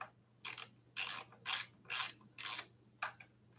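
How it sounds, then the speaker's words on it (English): A ratchet wrench works on an e-bike during assembly, giving six quick bursts of close, crisp clicking in an even back-and-forth rhythm with short pauses between strokes. "I'm using my ratchet wrench, which seems to make things a little bit faster"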